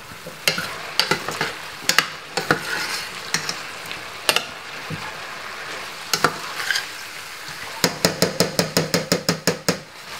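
Mushroom curry sizzles in a pot with a steady low hiss, broken by sharp taps and scrapes of a spoon on the side, ending in a quick run of rhythmic clacks.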